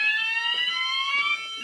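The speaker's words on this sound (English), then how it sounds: "I'm only filming my fire alarms" A home fire alarm on its French fire tone sounds a continuous high electronic tone with stacked harmonics, loud and steady, with no voices.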